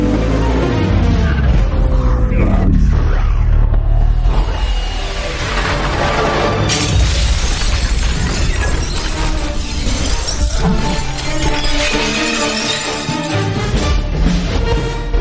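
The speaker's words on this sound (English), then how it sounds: "on the glass alone, a lot of glass happening right there. We got pieces and shards flying around" A glass-shattering sound effect plays loudly and densely, with repeated crashing breaks and shards scattering and tinkling throughout, layered with metallic scraping and grinding.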